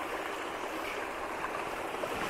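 Spring water flowing steadily at a mountain source about 750 metres up, a continuous close rushing wash without speech.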